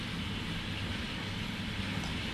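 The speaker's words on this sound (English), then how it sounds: "So here we are in the train, in the Romanian train" Steady low rumble and broadband rolling noise inside a moving Romanian passenger train, continuous and even with no talking.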